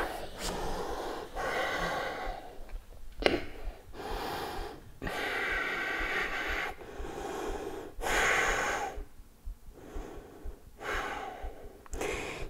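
Deep, audible breaths during a yoga session, drawn in and released in slow, steady cycles a few seconds long, close to the microphone with soft nasal rushes and airy exhales.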